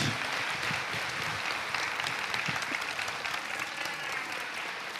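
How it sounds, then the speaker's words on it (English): Dense, steady applause from a conference audience at the close of a panel talk on software quality assurance, loud and sustained throughout with no voices over it. "Let's hear a huge round of applause for the Bugbusters"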